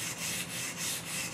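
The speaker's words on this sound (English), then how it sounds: "But sandpaper on a piece of wood" Sandpaper rubs back and forth on a piece of wood in a steady, rhythmic rasping, close and fairly soft, with about five strokes and no voices.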